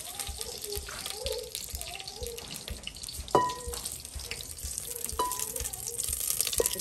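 Edible shea butter melts and sizzles in a pan as the base for a jollof stew, a soft hiss heard under a person talking, with a couple of sharp clinks.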